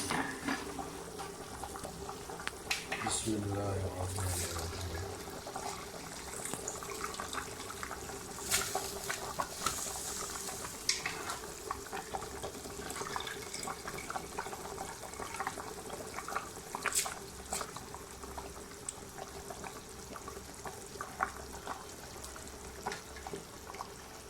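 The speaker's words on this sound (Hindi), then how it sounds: "अब मैं इसमें चावल ऐड करने के लिए लगा हूँ।" Rice goes into a pot of boiling beef stock for yakhni beef pulao, with faint bubbling and soft watery stirring and splashing sounds, quiet and intermittent, and no talking.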